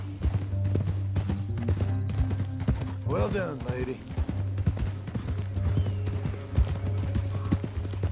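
Horse hooves clip-clop steadily in Red Dead Redemption 2, a rhythmic run of soft knocks under a low steady drone, with a brief whinny and a voice talking over it.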